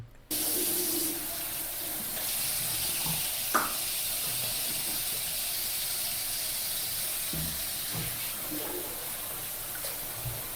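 Water runs steadily from a tap into a sink used for hand washing clothes, a constant close splashing rush with a faint clunk partway through.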